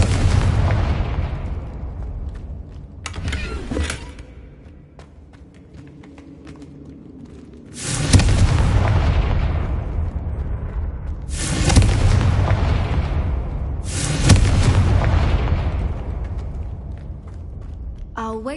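Repeated Confringo spell blasts in Hogwarts Legacy, several loud booming explosions with long rumbling tails, roughly four big bursts spaced a few seconds apart plus a smaller one, full and close.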